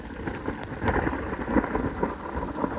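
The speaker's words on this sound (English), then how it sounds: "That was a big bit of lightning." Rolling thunder from a storm overhead in Arctic wilderness, a continuous low rumble swelling and fading beneath steady heavy rain pattering nearby.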